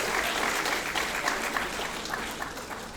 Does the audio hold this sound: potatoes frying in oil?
no